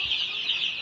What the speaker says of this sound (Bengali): এটার মধ্যে 12 পিস কাদাকনাথ মুরগি আছে